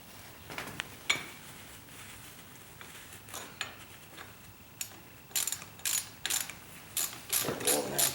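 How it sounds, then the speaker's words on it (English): A ratchet tightens bolts on a Harley 48 front fender in quick bursts of close, clicking pawl strokes, sparse at first and then coming in faster clustered runs near the end. "Start bolting that down."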